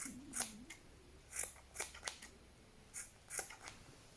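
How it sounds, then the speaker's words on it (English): Scissors snip yarn to trim the underside of a handmade ladybird pom-pom flat, giving a series of about eight short, crisp cuts in an irregular rhythm, close and fairly quiet with no talking. "you can actually trim back the yarn underneath and make it flat on the bottom"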